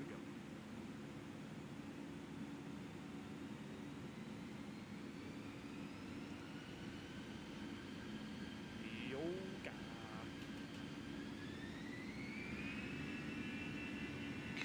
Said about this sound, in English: This is about as loud as these engines can get.